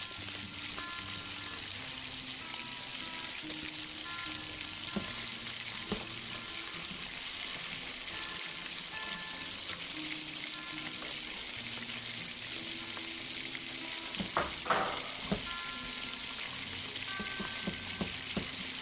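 Beef and vegetables searing together in a pot for a homemade stew, giving a steady broadband sizzle that runs throughout, with a few clinks and stirring knocks near the end and no talking.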